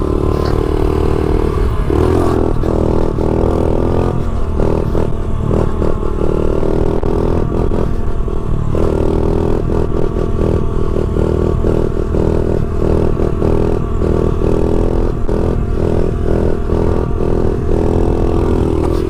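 Motorcycle engine revving hard through wheelies, a loud continuous roar with rising and falling pitch, clattering and scraping mixed in close by, no talking.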